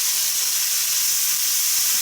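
Potatoes and bacon stir-frying in a pan as water is added a little at a time, a loud steady sizzle and hiss that stays even and continuous throughout, close up.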